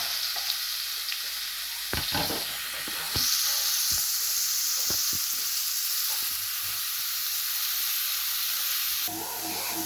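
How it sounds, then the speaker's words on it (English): Onions frying in a pot for grandma's chicken soup, a steady hissing sizzle with a surge partway through and repeated sharp clacks of stirring against the pot. "Now my grandma is going to put the onions and fry in the pot"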